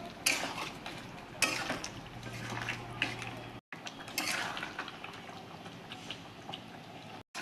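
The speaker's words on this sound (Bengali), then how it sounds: "একটু নাড়িয়ে নিই, ভালো করে মাংসটা কষিয়ে নেবো" Meat and fried potatoes stirred in a pan, giving close, irregular scraping and clinking of a utensil against metal over a soft sizzle, with short pauses.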